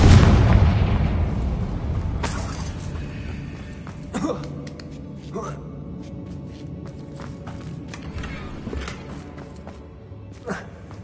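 A Confringo fire spell cast in Hogwarts Legacy during a goblin mine assault sets off a loud, booming explosion that fades into a rumbling tail. Scattered bursts and pops follow, and a voice calls out over them.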